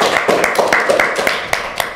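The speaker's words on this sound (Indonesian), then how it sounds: "Tepuk tangan dulu dong." Several scattered hand claps ring out in a small indoor space at a school student-council podcast, loud and uneven, about eight sharp strikes over two seconds with a faint voice-like murmur underneath.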